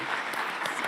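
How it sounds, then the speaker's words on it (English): Audience clapping at a decentralized science conference in Berlin; a brief, dense patter of many hands, moderately loud and steady, with no talk over it. "Thanks for the clap, everyone."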